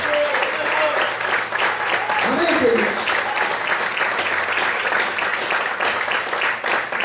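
Steady, loud applause from a large church congregation fills the whole stretch, with a preacher's voice speaking briefly over the clapping.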